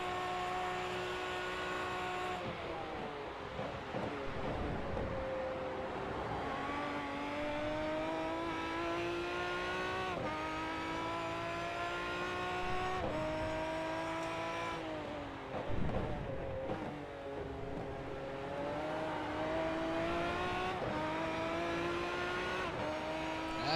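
GT1 race cars tearing down the mountain at Mount Panorama in a racing video game, engines screaming at high revs with shifting pitch as they accelerate and pass, loud and continuous throughout.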